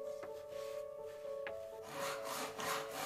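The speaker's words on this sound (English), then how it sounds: "you're sawing it right in the middle" A wooden plank being sawn in Distrant 2, with steady rasping strokes that grow denser and louder toward the end, over a faint sustained tone.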